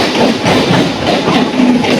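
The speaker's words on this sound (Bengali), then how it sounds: "দেখো পুরো ঘুরে ঘুরে যাচ্ছে ট্রেনটা" A Kolkata Chakra Rail circular train runs along its loop track with a steady, loud broadband rumble and faint rhythmic clatter throughout, no voices heard.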